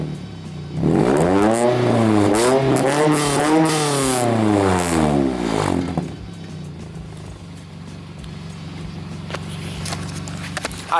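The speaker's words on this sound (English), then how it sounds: "let me show you guys how raspy it sounds from the back as well" Raspy exhaust of a Honda car fitted with a Tsudo race header, heard from behind as the engine revs up and falls in a sweeping run, then settles to a rough, loud idle, with no voices.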